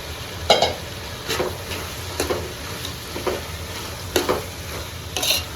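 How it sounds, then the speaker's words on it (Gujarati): Potatoes and tomatoes for batata poha being stirred in a sizzling pan: roughly seven separate scrapes and shuffles of the spoon over a soft, steady frying hiss, close and unaccompanied by talk. "હવે આપણે ટમેટા નાખી દઈએ આપણે ટમેટા. તો હલાવી નાખીએ આપણે પાછા."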